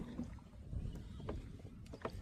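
A wooden country boat paddled along a backwater at Munroe Island, soft water swishes and low rumbling under light wind, faint and even with a couple of brief splashes.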